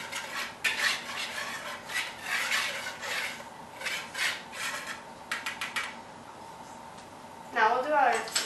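A spoon or whisk scrapes and rasps against a mixing bowl while cocoa powder is stirred into dry red velvet cake ingredients, with irregular bursts of scraping under steady talk.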